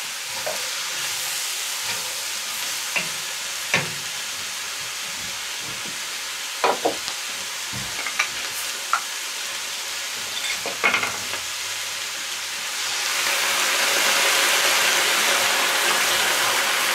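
Mushrooms and meat braise in a pot for a Härtsfelder Braumeister stew, giving a soft steady sizzle with scattered stirring clinks and scrapes, the frying growing louder toward the end.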